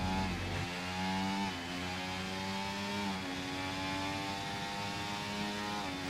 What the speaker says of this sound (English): you can hear the engine topping out